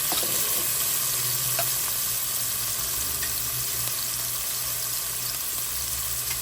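Sofrito sautés in a pan for arroz con gandules, a loud continuous sizzle close up with faint stirring scrapes and a low steady hum underneath.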